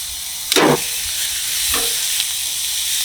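Steaks sizzle hot and fast on a Char-Broil grill at about 600 degrees, a steady broadband crackle running throughout, with a brief louder burst of spitting near the start and a few small pops later.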